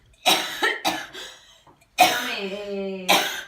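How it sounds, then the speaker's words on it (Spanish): Person coughing repeatedly during a choking first-aid demonstration, four harsh bursts of coughing close to the microphone, with a brief vocal strain between them and no speech. "Vale, sigue tosiendo."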